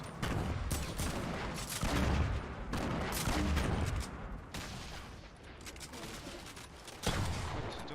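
Rapid bursts of gunfire crackle through a Fortnite Battle Royale duo scrim, with loud, continuous shooting that swells and eases over several seconds.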